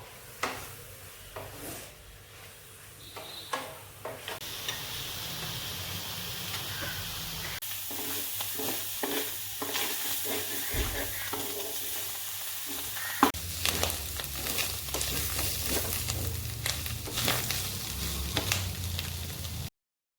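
Clams frying in a pan with turmeric and salt, a steady soft sizzle and hiss broken by occasional stirring scrapes and clinks, growing busier and denser toward the end.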